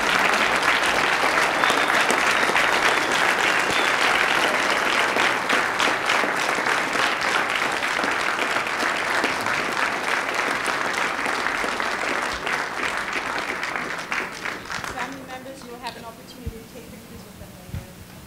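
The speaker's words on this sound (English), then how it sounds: "let's give a standing round of applause to our students" A standing ovation for students at a Black History Month celebration, with many hands clapping loudly and steadily before the applause thins out and fades near the end, scattered claps lingering.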